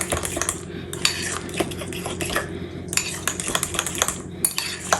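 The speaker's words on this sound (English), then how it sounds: "Just stir it a little bit more." A metal utensil clinks and scrapes steadily against a bowl while stirring deviled egg filling made with salt, a close, busy rhythm of small taps and scrapes with no talking.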